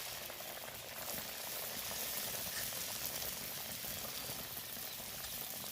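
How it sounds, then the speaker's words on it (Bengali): Potato and pea kachoris frying in hot oil in a wok give off a steady, dense bubbling sizzle that holds evenly throughout, fairly soft and close, with no talking. "আমি দেখো কড়াইতে তেল বসিয়েছি এক এক করে কড়াইয়ের মধ্যে দিয়ে দেবো"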